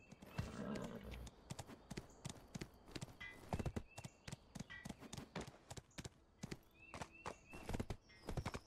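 Horse hooves in Black Desert clip-clop steadily along at a brisk walk or trot, with a whinny near the start, heard close and alone with no talk.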